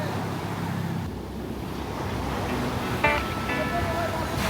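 Sea waves wash steadily along a beach on Boracay, a broad continuous surf roar mixed with wind buffeting the microphone, with faint background sounds throughout.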